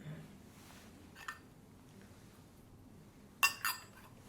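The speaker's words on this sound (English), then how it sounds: "I'll just take a glass of water." Glass lightly clinks while a glass of water is picked up during a quiet indoor talk session: a faint tap, then a sharper clink near the end followed by a short second chime.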